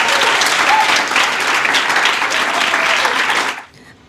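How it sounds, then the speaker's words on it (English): Enthusiastic audience applause at a community engagement imbizo awards event, loud and continuous for about three and a half seconds, then dropping sharply away to near silence. "round of applause"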